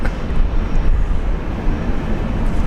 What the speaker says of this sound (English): A Boeing 737-300. This one is a 27-year-old aircraft.